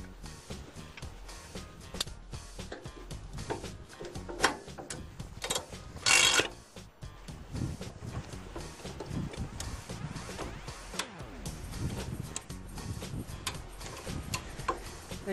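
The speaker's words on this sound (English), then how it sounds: "On the downstroke of the handle is when the car lifts up." A Hi-Lift farm jack ratchets as its handle is pumped to raise a car, giving a steady run of close mechanical clicks and clunks with one louder metallic burst midway.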